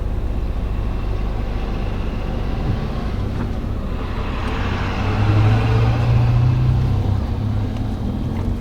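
Truck drives along a flood-damaged street in Puerto Rico after Hurricane Maria, a loud, steady low engine rumble that swells as it passes close by, with outdoor noise around it.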